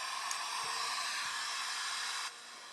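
A heat tool blows hot air onto a thick layer of paint, a steady close hiss that holds evenly and then drops slightly in level near the end, with no voices.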